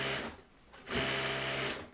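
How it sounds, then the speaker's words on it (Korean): Several sewing machines run nonstop in a small cooperative workshop where about ten homemakers sew cotton sanitary pads, a steady mechanical whir that dips briefly and then resumes, loud and close. "10여 명의 주부들의 재봉틀이 쉴 새 없이 돌아간다."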